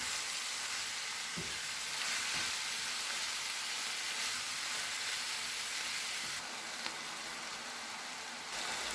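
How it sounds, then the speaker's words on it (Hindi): Minced meat for keema paratha sizzles in a pan while being stirred into a spice paste, a steady frying hiss across the whole stretch with a few faint scraping stir sounds. "कीमा को पेस्ट में अच्छे से मिक्स कर लेंगे।"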